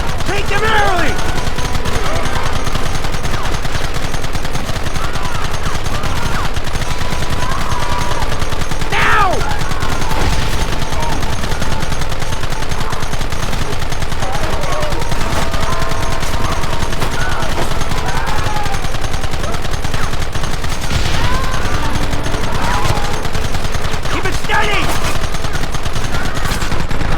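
Gunfire in a Red Dead Redemption shootout, dense rapid shots and bursts over loud continuous game noise, with voices shouting at times.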